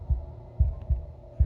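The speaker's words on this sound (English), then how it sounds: "A wooden and fleshy heart beating with an unbroken rhythm." A deep, thumping heartbeat from the game Slay the Princess, a wooden and fleshy heart, pulses in a steady low rhythm over a soft hum, four muffled beats close and alone.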